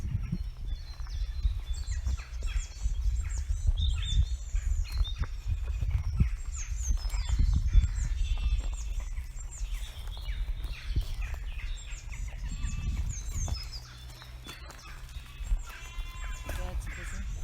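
Birds sing and call through a spring countryside with lush grazing pasture, chirps scattered over a steady low rumble of wind or distant noise, moderately faint and continuous.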